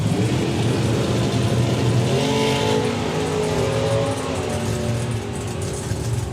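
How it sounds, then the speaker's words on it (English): A drag racing car accelerating down the strip at an FIA FIM event, a loud, sustained engine roar with rising revving tones that holds strong throughout and eases slightly near the end, with no talk over it. "Oh well, Phil's car kept the nose down"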